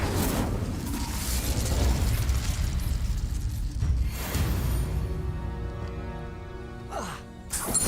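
Incendio fire spell cast in Hogwarts Legacy, a burst of whooshing flame and crackle that swells and fades over several seconds amid game ambience, with a couple of sharp magical swishes near the end.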